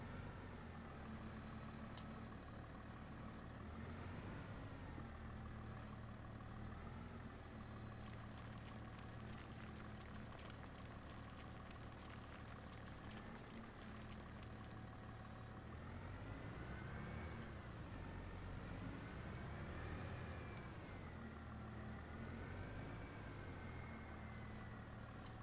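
A tractor engine in the Farming Simulator 25 video game holds a steady low drone for the whole stretch. The tone rises and falls slightly as the revs change, and no one talks over it.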